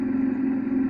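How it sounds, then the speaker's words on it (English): A Meelod T16 kids' e-bike motor revs as a steady electric whine with a buzzy hum, close and fairly loud, continuous and alone with no talk. "it makes a revving sound, but then when you're going, it just does a rev limiter sound"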